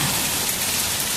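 Heavy hail and rain pour down steadily in Hyderabad, a dense continuous hiss and patter with no break and no voices.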